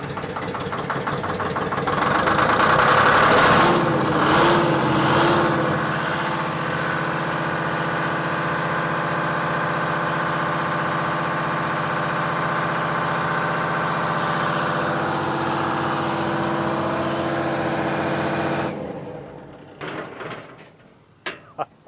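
Engine of a restored derelict machine idling, revving briefly after starting and then holding a steady loud rhythmic chug for long seconds before cutting off, followed by a few faint knocks.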